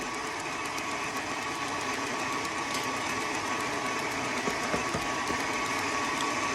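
Electric hand mixer fitted with a whisk, running steadily while mixing powdered sugar in a bowl for sugar cookie icing, a continuous even motor whir with no talk.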